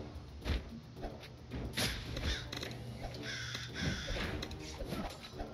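A crow unit caws in the tower-defense game Kingdom Rush Vengeance, short harsh calls mixed into busy battle effects and game sounds.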